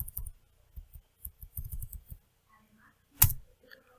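Typing a password on a computer keyboard, with soft, quiet key clicks in uneven bursts and a single sharper click near the end.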